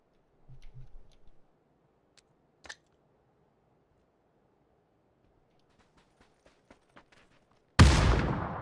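Gunfire in the video game PUBG: a few faint scattered clicks over a quiet background, then one loud, sharp burst near the end that rings out and slowly decays.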